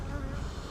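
Honeybees buzz close by during a hive inspection in a steady, droning hum, brief and continuous with no voices.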